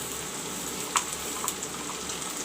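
Ginger, garlic and onion paste sizzles in hot oil with browning onions and green chili, a soft continuous frying hiss with a couple of faint clinks of a utensil.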